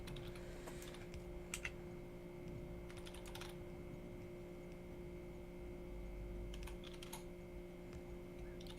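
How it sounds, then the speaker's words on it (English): Steady typing on a computer keyboard in a quiet room during a Factorio session, with soft clustered keystroke bursts over a constant mains hum and low background noise, no voices. "you're gonna hear a lot of typing."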